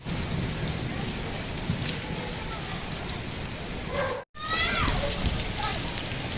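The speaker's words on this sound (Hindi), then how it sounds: "बारिश काफ़ी ज़्यादा तेज़ शुरू हो गई है।" Heavy rain pours down in a dense, steady roar, broken by a momentary cut-out, with faint voices underneath.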